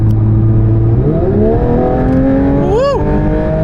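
A 2022 Porsche 911 992 GT3 accelerates onto a ramp from inside the cabin, its engine note climbing steeply through the revs, dipping at a quick shift, then rising again to a sharp peak before easing off, loud and close.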